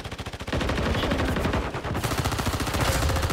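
Automatic weapon fire in Call of Duty Warzone on Rebirth Island in Resurgence mode: a few separate shots, then a long, loud, dense stream of rapid gunfire with a brief break partway through.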